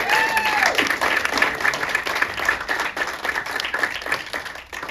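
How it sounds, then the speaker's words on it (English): An audience at the Chicago Magic Lounge breaks into applause during a magic show, dense and sustained clapping that stays strong and then eases off toward the close, with a brief voice or whistle near the start. "Give Jeremy another round of applause."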